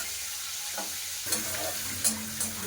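Bitter gourd crackling in hot oil, a steady soft frying hiss with a few sharper pops and stirring scrapes, no talk.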